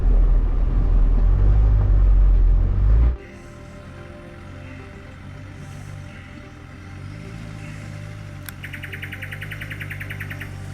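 A Land Rover Defender climbing a rocky off-road track gives a loud, close, deep engine rumble for about three seconds, then drops to a quieter low drone while birds chirp in the background.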